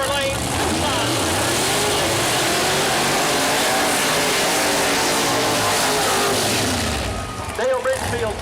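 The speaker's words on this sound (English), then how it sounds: "Dale Ridgefield sideways across the starting line, laying down his rubber tracks" Nitrous Pro Mod drag car doing a burnout sideways across the starting line at Mooresville Dragway, a loud, sustained roaring engine and tire scream that fills the clip and drops off near the end, with a PA announcer's voice over it.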